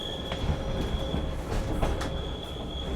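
A passing train rumbles steadily with a thin, sustained wheel squeal high above the roar, plus faint rhythmic clacks of the rails, loud and close without any talk.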